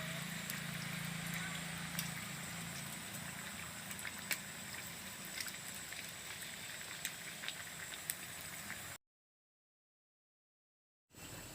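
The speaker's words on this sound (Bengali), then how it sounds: "তেল গরম হয়ে গেছে, এবার চপগুলো ছেড়ে দেবো" Thick prawn chops deep-fry in hot oil with a quiet, steady bubbling hiss, which breaks off into near silence briefly before resuming.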